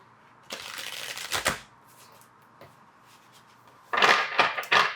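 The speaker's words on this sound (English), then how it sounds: "Let's get one more shuffle for you." Cards are shuffled in two quick riffling bursts up close, the first trailing off before a pause, then a second louder flurry.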